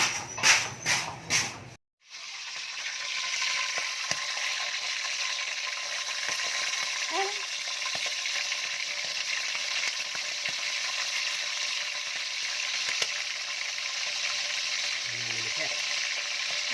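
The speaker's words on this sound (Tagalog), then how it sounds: "pagluluto na, prito lang" Frog meat (betute tugak) sizzles and crackles steadily in a hot pan after a few brief knocks at the start, with occasional small clinks over the frying.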